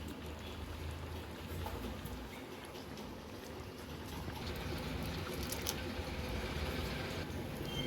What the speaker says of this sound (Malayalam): ഇനി ഈ പാത്രത്തിൽ കുറച്ച് വെള്ളം ഒഴിച്ച് അതോടൊന്ന് കലക്കി ചേർക്കാം